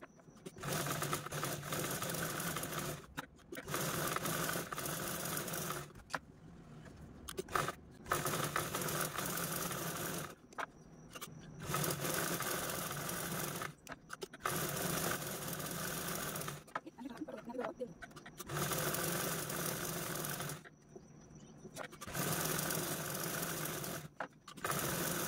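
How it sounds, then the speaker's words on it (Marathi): A sewing machine quilts fabric laid over shopping bags, running in repeated bursts of rapid mechanical whirring and needle clatter, separated by short pauses, close and loud throughout. "आता आपण यावरती क्विल्टिंग करूया।"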